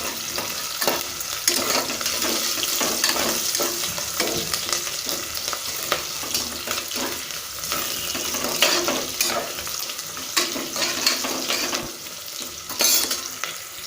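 Onions sautéing in a pan with a little rock salt for a veg wheat rava upma: a steady frying sizzle with repeated stirring scrapes, close and continuous, with no talking.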